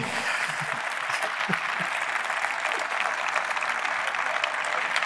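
A seated audience applauds an author at a literary festival panel in Valencia, sustained even clapping from many hands continuing without pause and without speech.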